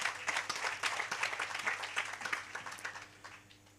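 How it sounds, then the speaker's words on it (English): An audience at a live chat event claps steadily, a dense patter of many hands that gradually thins and fades toward the end. "Let's give him a round of applause"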